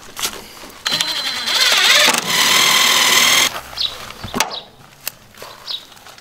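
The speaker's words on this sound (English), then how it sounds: "drive screws" Screws driven in with a power driver while wiring a 50 amp shoreline and breaker panels in a skoolie bus: two close, whirring bursts of a few seconds each, followed by scattered light clicks and knocks.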